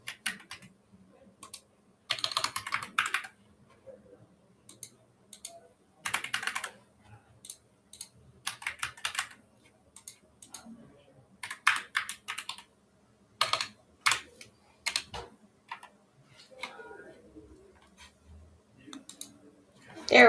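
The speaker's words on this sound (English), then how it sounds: "nobody make fun of my clicking" A computer keyboard clicks in short bursts of quick typing, with isolated mouse-like clicks between them, close and fairly crisp against a quiet room, during an online trading card sales stream.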